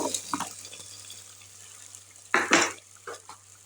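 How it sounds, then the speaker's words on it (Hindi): Cut potatoes tumbling into a cooking pot for a mixed vegetable curry made with desi ghee, heard as a few sharp clattering thuds and a brief rattle against low kitchen hum, no voices. "अब जी हम इसमें ऐड करेंगे आलू 3 से 4 अदद कटे हुए"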